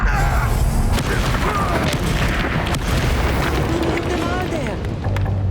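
Fire and blast spells (Confringo and Bombarda) in Hogwarts Legacy on Nintendo Switch, heard as a steady rumble of booming impacts and bursts mixed with game sounds and voices.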